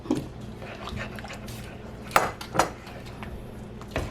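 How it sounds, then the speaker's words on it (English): Spoon scraping and clinking against a pot while keto chicken and dumplings are stirred, with a few sharper knocks standing out over a low steady kitchen background. "I am stirring the fire out of this"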